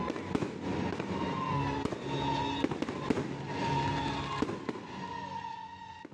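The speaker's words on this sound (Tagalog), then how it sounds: "Ito yung fireworks display nila." Fireworks at a display in Baguio boom and crackle in a steady run of sharp bursts and popping, moderately distant, with crowd murmur beneath.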